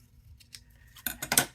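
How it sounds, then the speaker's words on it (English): Scissors trimming a Crafter's Companion card template, with a few quick, close snips at the end after a moment of faint handling noise. "So just trim it a little bit."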